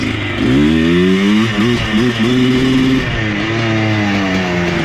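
An abandoned ATV with a suspected ignition fault revs up close and loud, its engine note wavering and stumbling irregularly instead of holding a smooth pitch as it climbs and falls.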